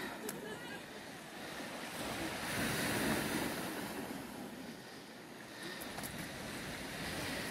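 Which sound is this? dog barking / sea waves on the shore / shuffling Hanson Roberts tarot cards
sea waves on the shore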